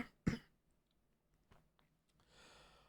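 A single sharp cough from someone still recovering from illness, loud and close, followed by a few faint throat and breathing sounds in an otherwise quiet room.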